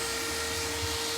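A high-speed rotary sanding tool whips across Saiyan armor, smoothing a flat plane, producing a steady loud whirring drone close up with no talk, for a brief moment.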